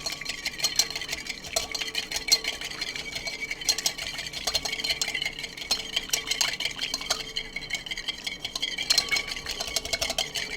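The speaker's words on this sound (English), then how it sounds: "we're going to take a whisk and whisk in some good quality olive oil" A whisk beats olive oil into vinegar for a dressing, giving a continuous fast clicking and clinking against the bowl, close and steady throughout, with no voices.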